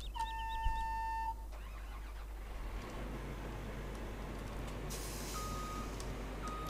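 A Claas Lexion combine harvester in Farming Simulator 17 starts up: a few electronic beeping tones give way to a steady, broadband engine rumble that holds for several seconds.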